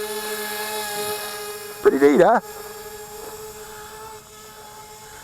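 XK X450 Aviator VTOL RC tricopter flying with a steady high motor whine held throughout, as someone talks briefly over it midway.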